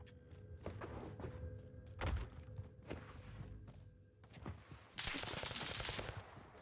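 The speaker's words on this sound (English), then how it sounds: "shots uphill" Gunfire in Call of Duty Warzone on the Caldera map, with several sharp shots and bursts spread through the clip, near a power plant and uphill, ending in a dense louder burst of rapid fire.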